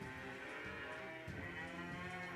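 Cattle on a farm in Kota Batu, where herds are hit by foot-and-mouth disease, give a long, drawn-out moo that is fairly faint against a steady background.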